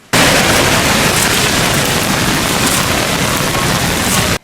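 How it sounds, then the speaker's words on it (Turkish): Heavy, large hailstones pound down on a city in a dense, loud, continuous roar of impacts that starts abruptly and holds steady for several seconds before cutting off, with no voices. "İri taneler halinde ve şiddetle yağan dolu kenti adeta beyaz örtüyle kapladı."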